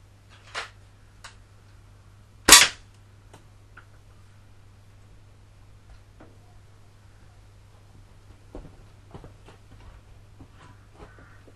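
An air rifle pellet strikes steel plate greaves with one sharp, loud metallic crack, preceded by a fainter tick and followed by quiet scattered clicks over a low steady hum.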